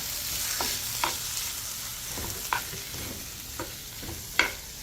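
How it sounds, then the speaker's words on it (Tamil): Tomatoes being sautéed with garlic in a pan, a steady close sizzle broken by several sharp stirring scrapes spaced a second or so apart, with no voices. "இனி நாங்கள் தக்காளியை பதக்கலாம். தக்காளி கொஞ்சம் மசியட்டும்."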